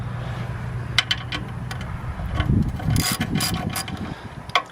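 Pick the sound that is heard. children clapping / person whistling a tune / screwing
screwing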